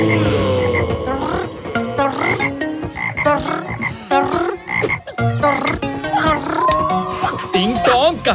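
A cartoon character's voice imitates a frog, croaking loudly and repeatedly in a rapid, bubbly, uneven run of throaty calls.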